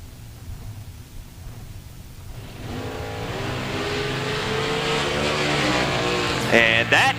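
A small-block engine in a Roadster drag car runs at a drag strip, a loud steady roar that builds and rises in pitch over several seconds, with a brief sharper burst near the end.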